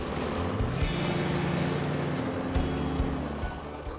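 A Cobra MX5604SPB petrol lawn mower engine runs steadily at a slower drive speed, a close, loud continuous drone with slight rises and dips in pitch, heard alone without talk.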